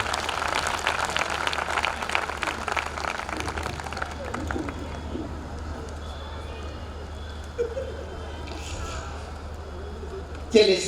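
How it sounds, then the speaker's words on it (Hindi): An audience at a kavi sammelan poetry event applauds warmly and continuously, the clapping gradually thinning and fading to a quieter murmur by the end. "जोरदार तालियों से गौरव शर्मा को बुलाया।"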